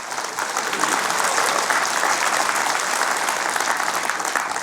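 Audience at a book launch event in Daegu breaks into sustained, dense applause that stays steady and loud throughout, filling the room without pause.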